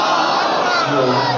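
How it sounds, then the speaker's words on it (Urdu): A large mourning gathering shouts a religious slogan in unison, a loud, sustained chorus of many voices filling the space, close and dense. "علی والے بھی مل کے نعرہ تکبیر"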